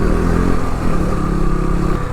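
A motorcycle runs over a rough road with a steady, loud engine drone and faint clatter throughout, heard close with no voices.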